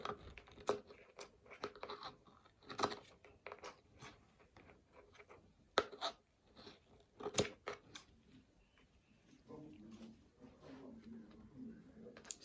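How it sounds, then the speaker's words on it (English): Scissors snip away excess lace from a wig in a zigzag pattern, a quiet, close run of sharp crisp cuts arriving in irregular clusters with brief pauses and faint handling rustle near the end. "hold your lace and cut it out. I'll be using the zigzag method to cut out."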